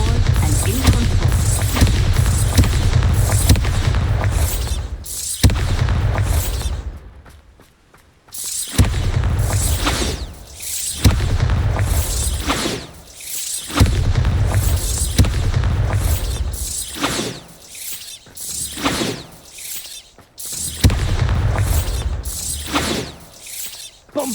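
The Bombarda spell blasts pumpkins in Hogwarts Legacy, a series of loud booming explosions with mechanical clatter, repeating in bursts separated by brief quiet gaps, with game speech in between.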